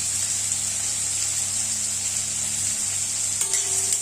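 Chopped onion and garlic frying in oil with salt and turmeric, a steady close sizzle with a faint stir or scrape near the end.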